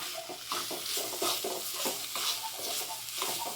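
Pongal is stirred in ghee in a pot, close up, with repeated scraping strokes of a spoon over a soft, steady frying sizzle and no talking.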